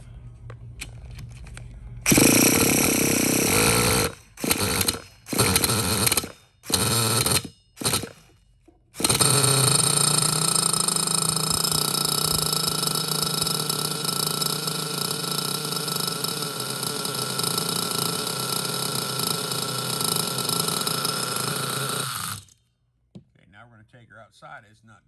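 Losi Aftershock nitro RC truck engine starting after several short stuttering attempts, then catching and holding a loud, high buzzing drone for about twelve seconds before shutting off.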